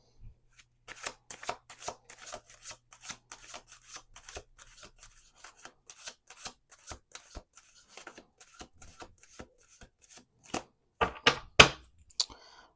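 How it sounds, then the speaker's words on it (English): A deck of tarot cards is shuffled by hand in repeated quick riffles and slides, soft crisp flicks that grow louder and sharper toward the end. "Let's do two more shuffles"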